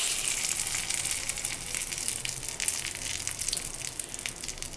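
Mustard seeds, dals, red chillies and curry leaves tempering in hot oil in a pan give a steady, close crackling sizzle with bright spitting pops throughout, alone without speech.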